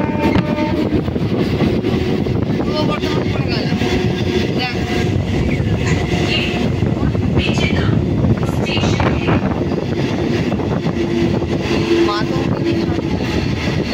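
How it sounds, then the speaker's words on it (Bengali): Mecheda–Howrah local train standing at Mecheda station, a loud, steady rumble with wind buffeting the microphone, brief horn-like tones and a busy platform murmur throughout. "এটা মেচেদা হাওড়া লোকাল দাঁড়িয়ে আছে।"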